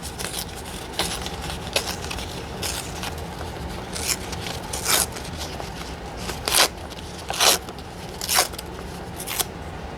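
Paper torn by hand, giving repeated short ripping bursts at irregular intervals over a low background hiss.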